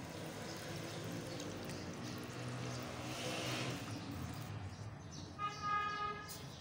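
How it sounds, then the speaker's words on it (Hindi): Water poured into a cooking pot while making kadhi pakora, a continuous splashing wash heard alone, ending with a faint higher tonal sound. "इसमें थोड़ा सा पानी ऐड करेंगे ताकि ये नरम हो जाए अच्छे से।"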